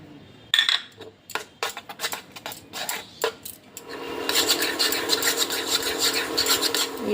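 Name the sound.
stirring sandesh mixture continuously in a pan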